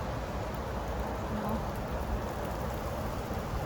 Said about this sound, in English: somehow I really love the rain